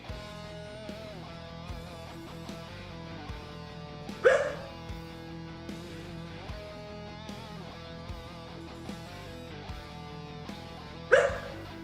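A dog gives two distinct barks several seconds apart over a steady droning background, each bark sharp and fairly loud against the hum.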